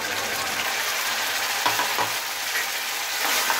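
Masala paste fries with onions in a pan for Punjabi-style rajma masala, a close, steady sizzle broken by a few stirring scrapes of the spoon.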